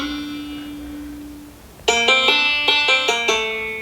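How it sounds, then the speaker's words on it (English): Banjo part in a country-pop song: after a faint, fading held tone, bright plucked notes begin and pick out a quick, even rhythmic pattern, close and twangy. "I put this little banjo in"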